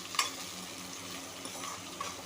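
Onion and chili frying in oil in a pan for aloo bonda, a close, steady low sizzle with a few light stirring taps, no talking.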